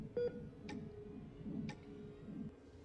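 Telephone being dialed to call for backup, a quiet sequence of soft tick-like clicks and short tones at an irregular pace over faint background hum.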